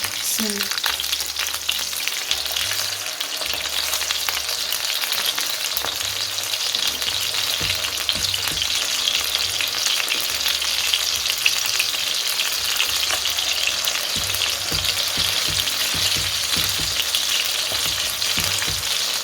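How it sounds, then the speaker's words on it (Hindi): Chapli kebabs made from raw minced meat fry steadily in a pan, a continuous loud crackling sizzle with occasional spatters and low rumbles across the whole stretch, no voices. "एक पैन में हमारे तकरीबन 4 कबाब आ गए हैं। अब हम बाकी कबाबों को भी टर्न कर लेंगे।"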